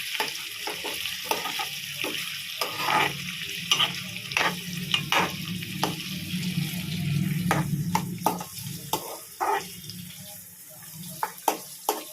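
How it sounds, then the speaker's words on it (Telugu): Onions fry in hot oil for an egg curry with a steady sizzling hiss, punctuated by frequent sharp scraping clicks of a spoon stirring in the pan. "కొంచెం వేగిన తర్వాత ఉల్లిపాయలు వేసుకోండి"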